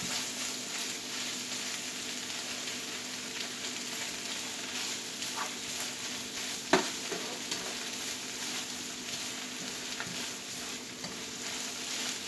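Spinach cooks down in olive oil with garlic powder, making a steady, close sizzle and fry that carries through without a break, with one small tap partway through.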